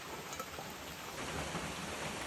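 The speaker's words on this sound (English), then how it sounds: "And I apologize about the noise of the rain here," Steady rain pours outside a home kitchen during a thunderstorm, a dense even hiss of drops on surfaces with a faint low rumble beneath, continuous and fairly close, with no talking.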